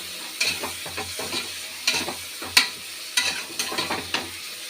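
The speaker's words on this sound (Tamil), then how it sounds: "உப்பு போட்டு நம்ம மிக்ஸ் பண்ணிக்கலாம்." Salt being stirred into chilli masala in sizzling oil for prawn biryani, a soft fry under repeated scraping strokes of a spoon against the pan, close and rhythmic.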